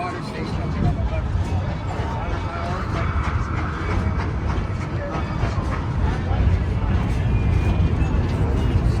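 Steady, dense rumble of a train rolling along the tracks, continuous and fairly loud with faint rhythmic clatter and some background chatter.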